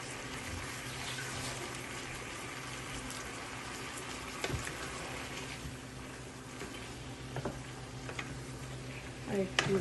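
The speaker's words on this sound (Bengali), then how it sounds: "বাটা মশলাটা দিয়ে একটু কষিয়ে নেব।" Ground spice paste and meat being fried and stirred in a pan for a Bengali kosha mangsho curry, a steady soft sizzle throughout with occasional scrapes and clinks near the end.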